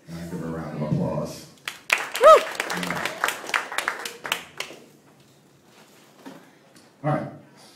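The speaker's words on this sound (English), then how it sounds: "And I give her a round of applause." An audience at a hypnosis stage show applauds a volunteer, a short burst of clapping mixed with voices and laughter that fades to near quiet, then a brief final flurry.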